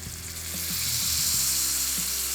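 Lamb chops searing in a hot pan on a barbecue, a close, steady hissing sizzle that swells after the first half second and holds strong, with faint low clinks underneath.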